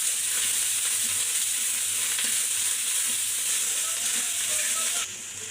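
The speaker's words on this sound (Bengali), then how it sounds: "এখন আমি এই যে আদা রসুন গরম মশলা বাটাটা দিয়ে দিলাম, দিয়ে একটু কষিয়ে নেব" Ginger, garlic and garam masala paste frying in a pan with onions and chillies for a banana stem curry, a strong continuous sizzle with faint stirring scrapes that cuts down abruptly at the end; no speech.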